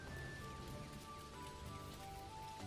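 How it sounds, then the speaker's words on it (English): Steady rain pours in the farming video game Dinkum, an even hiss with soft drop patter and faint sustained tones underneath, continuous and unbroken throughout. "Right now I'm listening to Nice Rain. I got the nice rain."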